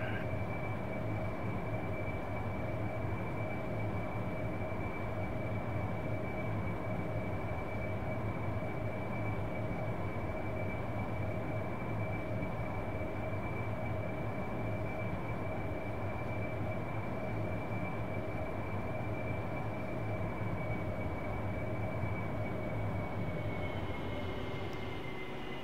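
A jet aircraft taxiing toward the active runway in the DCS flight simulator, a steady engine drone with a sustained whine running unbroken for the whole stretch.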